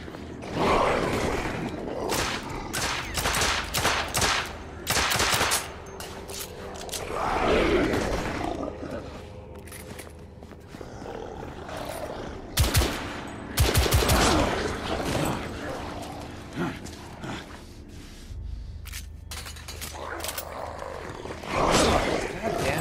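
Bursts of gunfire in The Order: 1886 video game fight against lycans, loud repeated shots clustered in volleys, mixed with roaring creatures and a voice talking over the action.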